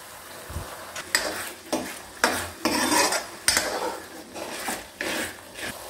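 Green chili and tomato paste go into cooked onions in a pan for pav bhaji, followed by repeated stirring and scraping of a utensil against the pan in rhythmic strokes over a soft sizzle.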